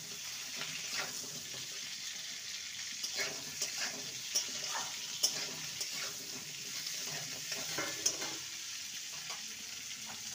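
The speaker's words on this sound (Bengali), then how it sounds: "আলুটাকে ভেজে নেব" Two medium potatoes cut into long strips frying in a pan for a vegetarian brinjal dish, a soft continuous sizzle with occasional stirring clicks and faint crackles.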